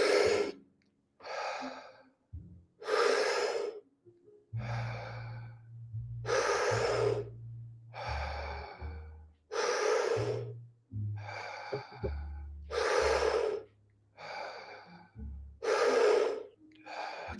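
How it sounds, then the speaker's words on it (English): Deep, slow breathing exercise: repeated full inhales and long exhales in a steady cadence, about nine breaths close up, with a low hum underneath and no talking. "So keep breathing just like that."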